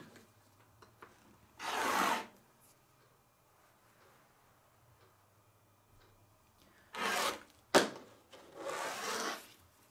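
Scissors or a rotary cutter trimming quilt backing fabric along a ruler, heard as a few soft, brief rasping cuts separated by quiet gaps, close and faint.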